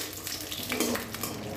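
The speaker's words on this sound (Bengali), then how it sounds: "एर मध्ये प्रथमेई आमी एक मुठो चीने बादाम भेजे निच्छि" Peanuts fry in mustard oil in a wok, a short burst of busy crackling sizzle with light stirring rattles close by.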